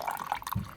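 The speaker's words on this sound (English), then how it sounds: "add some water" Water trickles and splashes into a bowl of sprouting grains, a brief, light pouring sound with a few drips and a small low splash near the end, fairly quiet.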